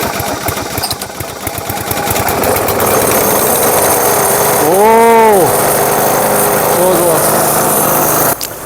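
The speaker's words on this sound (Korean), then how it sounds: "덕분에 잔디 깎기가 여러 대가 되지만 각각 용도가 다릅니다" A Honda lawn mower engine runs on a test start after reassembly, a loud, steady close drone with a brief rising surge of revs partway through.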